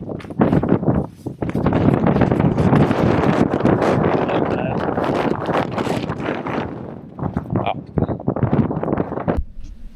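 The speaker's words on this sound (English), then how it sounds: "it's really windy" Strong wind on a hike near Coniston roars and buffets the microphone for the whole stretch, a loud, rough rumble with gusty surges.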